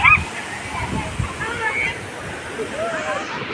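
Waterfall rushing water heard as a steady broadband roar beneath a person talking nearby, with some sloshing and splashing.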